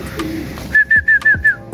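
Racing pigeons arriving at the loft after a 95 km race, a close bird call of several quick repeated whistly notes in an even rhythm over faint background noise.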